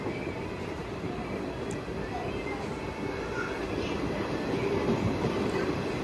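A passenger train pulls into Tarikere railway station on the Shivamogga–Tumkur line, a steady broadband rumble of wheels and carriages filling the platform throughout with a faint voice underneath.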